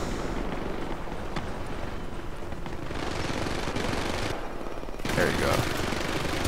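Gunfire in the video game Syndicate sounds as dense, rapid automatic fire that runs without a break, loud and close, growing heavier near the end, while someone talks briefly over it.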